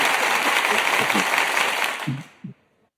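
Studio audience applause on a morning radio show, a dense steady clatter of clapping with a few louder hand claps near the end before it cuts off abruptly.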